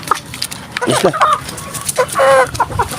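Chickens cluck and squawk nearby in short, busy bursts, including a tall red-faced rooster, with faint background noise and occasional voices mixed in.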